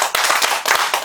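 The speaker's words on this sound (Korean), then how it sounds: "우리 하나님께 영광의 박수 한번" A congregation claps together during a church revival service at a prayer mountain, a dense, loud burst of applause lasting about a second with a few sharper surges.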